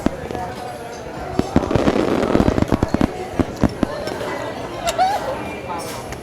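Fireworks crackle and pop in rapid, irregular bursts beneath a murmuring crowd, with people talking nearby.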